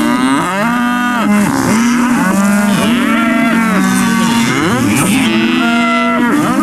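Grass-fed cattle on an Australian grazing property mooing loudly and repeatedly, several drawn-out overlapping calls in close succession filling the whole stretch with no talk.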